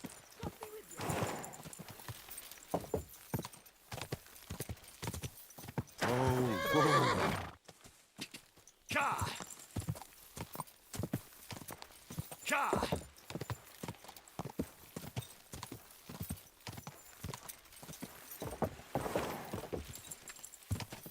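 A horse gallops in a video game, with rhythmic clip-clop hoofbeats and repeated neighs and whinnies, fairly close and sometimes loud, while voices talk over it at intervals.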